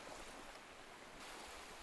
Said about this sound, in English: The ocean stretches out endlessly in front of you, its gentle waves rolling in and out